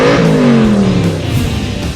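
A dual-clutch car engine revs hard as it takes off, a loud, close roar that climbs in pitch and then settles as the car pulls away.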